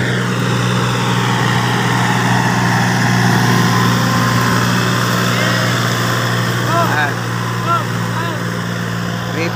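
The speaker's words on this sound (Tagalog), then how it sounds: "Kaya yung hirap ng konti yung traktora." Tractor engine labouring under load while threshing palay rice in a muddy field, a loud continuous low drone with steady hum throughout, close to the microphone.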